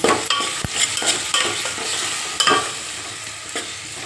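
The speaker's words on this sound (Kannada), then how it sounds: "ಇದು ಟೊಮಾಟಿ ಮೆತ್ತಗಾಗೋವರೆಗೂ ಫ್ರೈ ಮಾಡಬೇಕು" Tomato fries in a pan until soft, with a bright, constant sizzle up close and repeated scraping strokes of a spoon stirring through it.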